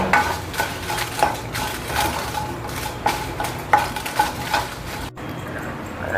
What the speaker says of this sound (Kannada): ಈಗ ಮೆಣಸನ್ನು ಮಾತ್ರ ಹುರಿಯೋಣ.